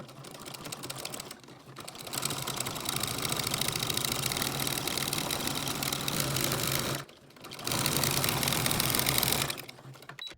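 A sewing machine runs fast and steady, quilting diagonal lines through layers of batting for a casserole hot pad, a close mechanical whir that pauses briefly twice before starting up again, with no talking.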